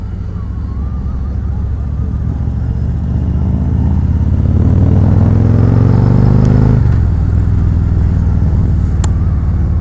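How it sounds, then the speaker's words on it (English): A 2019 Harley-Davidson Road Glide Special bagger with the 114 engine, heard from the rider's seat as a deep, loud engine rumble that climbs in pitch under acceleration, then drops as it shifts, over steady wind rush. "these 114s, these big heavy baggers, they really get these bikes up and moving"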